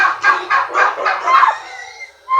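Turkeys kept penned apart on a Filipino farm give a run of rapid, rhythmic gobbling calls, close and loud, tapering off into a brief pause before one more call at the end.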